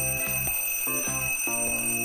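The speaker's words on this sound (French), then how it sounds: "Ferme-la, le réveil." Alarm clock ringing in rapid repeated bursts of bright metallic tone, three short rings each with a brief gap, loud and close with no voices.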